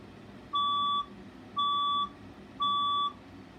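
A building fire alarm sounds during a test, three evenly spaced loud electronic beeps, each about half a second long, over a faint background hum.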